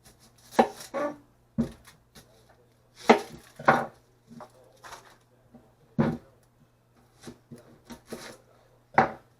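Knife chopping an onion on a cutting board at an outdoor lakeside trout cookout, a series of crisp, uneven thunks and scrapes spaced a second or so apart, close and fairly loud against a faint steady hum.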